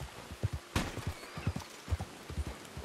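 Horse hooves clip-clop in an even trotting rhythm in the Red Dead Redemption 2 video game, close and fairly quiet, with one short neigh-like burst early on.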